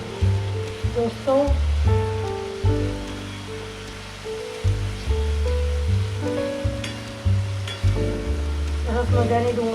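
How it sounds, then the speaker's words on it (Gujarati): Onions frying in oil for chole give a steady sizzle and crackle, heard close up beneath prominent background music. "સરસ મજાની ડુંગળી પાકી રહી છે."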